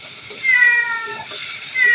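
A cat meows in several drawn-out, high, wavering calls close by, with brief pauses between them and faint background noise.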